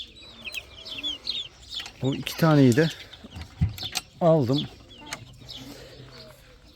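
Chicks peep in rapid high chirps while hens cluck and give louder drawn-out calls in a farmyard coop, close and busy, with someone speaking briefly.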